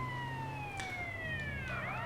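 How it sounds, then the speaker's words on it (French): Police car siren from the video game GTA San Andreas, a steady wailing tone sweeping slowly downward with rising harmonics, loud and continuous over a low engine rumble, with no talking. "je laisse la sirène"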